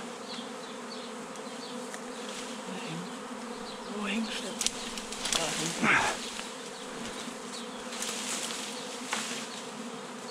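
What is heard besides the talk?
honey bee swarm buzzing in a tree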